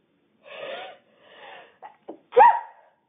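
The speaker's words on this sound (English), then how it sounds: "I'm going to sneeze" A few breathy inhales build up, then a short catch and a loud, sharp sneeze close to the microphone, with quiet room silence around it.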